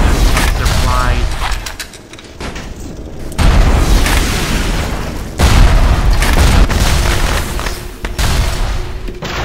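Grenade explosions in the game Bioshock, several heavy booming blasts a few seconds apart, each a loud burst that rolls off into a rumbling tail.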